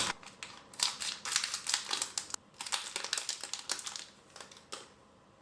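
Crinkly plastic packaging being torn and unwrapped from a miniature panda-shaped eraser, close and fairly quiet, with a steady run of rustles and crackles and brief pauses.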